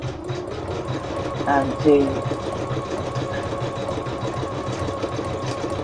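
An embroidery machine stitches out a blanket-stitch design in a steady, continuous mechanical whir, with a person talking over it throughout.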